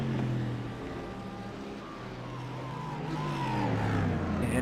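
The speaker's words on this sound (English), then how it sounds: "That number 8 Mercedes has that little Audi nipping at the heels here." GT race cars, a Mercedes and an Audi among them, race at Montreal in iRacing, with engines droning and shifting pitch as they rise and fall in a steady, moderately loud roar.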